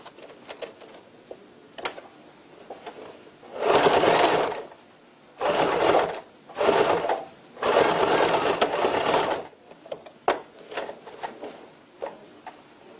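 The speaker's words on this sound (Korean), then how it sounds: "맛주름을 먼저 박음질 하겠습니다." Sewing machine stitching pleats on a tote bag pocket, four bursts of fast motor whirring in stops and starts, close and loud, separated by small clicks and handling of fabric.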